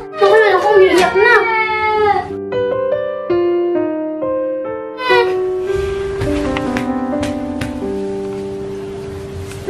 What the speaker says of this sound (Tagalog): Bakit ka ba umiiyak?